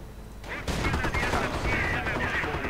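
Rapid gunfire rattles in a World War II strategy video game, with dense bursts of shots and explosions rising suddenly into a continuous battle din under someone commentator's voice.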